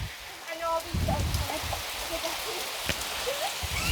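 Steady rain falls in the GOLQ (Game On Legend Quest) video game world, a dense hiss of drops on surfaces with small splashy ticks, continuous at moderate level while faint game tones sound over it.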